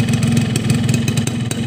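A two-stroke motorcycle engine running on Powerlube 2T oil, still cold after a short run, idles steadily and loud up close with a buzzy, even drone and slight rhythmic pulsing.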